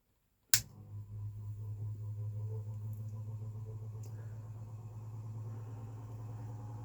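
Induction motor running after being soft-started through incandescent bulbs, giving a steady low electrical hum with a strong mains-frequency drone, starting abruptly and continuing evenly, close and alone without talk.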